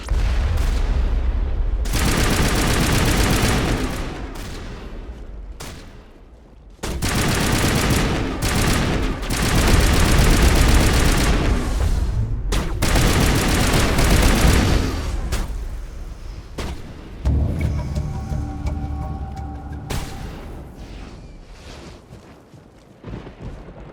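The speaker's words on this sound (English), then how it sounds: "Manova is under coordinated crossfire." Heavy gunfire crossfire in the video game Mass Effect: dense bursts of automatic shots and booming impacts roll on almost continuously, loud and close, easing off into scattered shots and mechanical sounds near the end.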